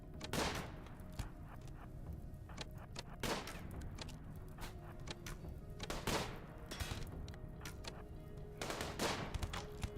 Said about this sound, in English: You keep gunning them down.